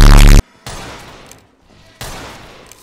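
Gunfire in a video game: a dense burst of rapid shots at the start, then quieter stretches with scattered thuds and a second swell of noisy action, with no speech.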